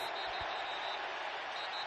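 Loud, steady roar of a stadium crowd at an NFL football game between the Minnesota Vikings and Detroit Lions, a dense sustained wash of noise that barely varies.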